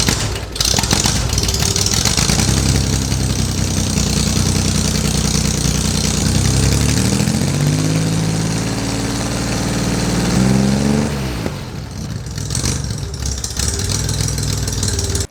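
A flat-six engine fitted with a custom dual exhaust, new gaskets and new mufflers idles steadily and loudly up close. A low throaty rumble carries throughout, with a brief dip partway through.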